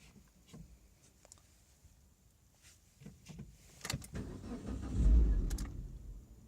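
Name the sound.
Proton S16 car engine cranking but failing to start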